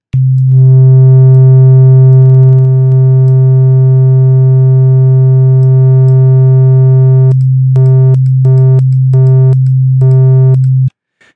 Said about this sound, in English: See, it's not a perfect sine wave anymore.